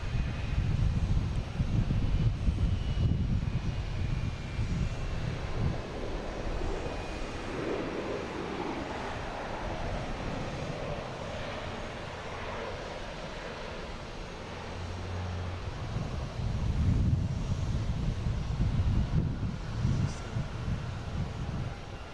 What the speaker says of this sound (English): We got Iceland Air coming in from Keflavik, a 767.